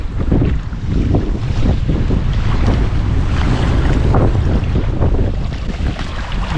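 Strong gusting wind buffets the microphone on an open Minnesota lake in the Boundary Waters during a canoe trip, a loud steady roar with water and waves churning underneath and no voices.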